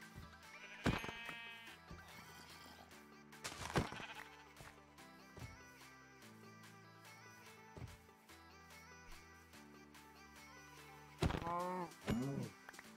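Blocky sheep in Minecraft's All The Mods 5 modpack let out several short, wavering bleats, two louder bursts early and a cluster near the end, over quiet background game music.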